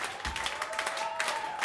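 Brief burst of concert audience applause, a dense wash of many hands clapping with a faint held tone underneath.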